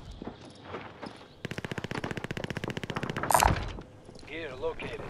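A fast burst of automatic gunfire in Fortune's Keep, a rapid string of sharp shots lasting a couple of seconds, preceded and followed by quieter scattered game sounds and effects.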